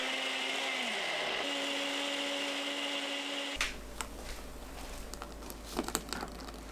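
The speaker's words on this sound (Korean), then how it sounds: "믹서에 양파 70g, 사과 150g, 새우젓 깎아서 1큰술, 마늘 3개, 멸치액젓 130g 넣고 갈아주세요" A blender grinds onion, apple, salted shrimp, garlic and anchovy fish sauce into a kimchi seasoning. A low motor hum gives way midway to a loud, steady whirring grind with crackling bits of chopping, heard alone.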